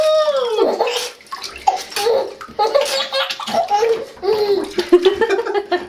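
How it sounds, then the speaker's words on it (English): Bathwater sloshes and splashes in a tub around a small child, mixed with the child's loud giggles and belly laughs throughout, close and lively. "You like being splashed in the face."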